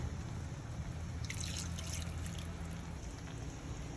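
About 1.5 glasses of water pours into a pot of pepper chicken in a steady splashing stream, with a brighter burst partway through, over a low background hum.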